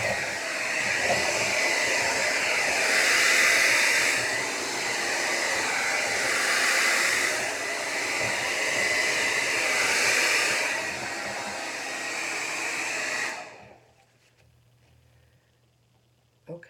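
A hair dryer blows steadily across acrylic paint in a resin pour, a loud, close, continuous airy roar that swells and dips slightly as it moves, then cuts off, leaving near silence and a faint click.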